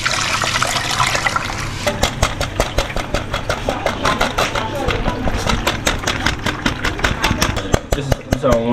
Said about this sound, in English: So we're about to sieve this.